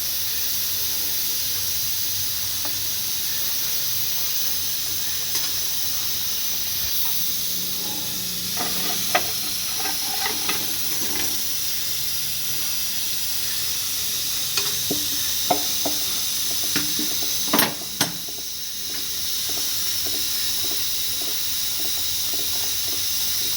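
Pabda fish curry simmers in a pan with a steady, close hiss and sizzle. Scattered light clinks and stirring scrapes come through, louder near the end, and no one speaks.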